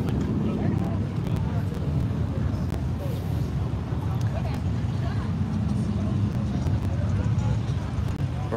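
Cars rumble past at a Smoky Mountains rod run, a loud, continuous roar of engines and traffic that fills the whole stretch without a break.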